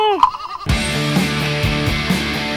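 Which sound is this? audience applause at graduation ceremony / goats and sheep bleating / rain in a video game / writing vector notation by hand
goats and sheep bleating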